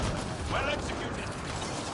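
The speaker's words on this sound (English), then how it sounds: "Loading ammo." Weapon reload in Mass Effect: Andromeda, a quick run of mechanical clicks and ratcheting metal amid ongoing combat noise, with a brief voice murmur in the mix.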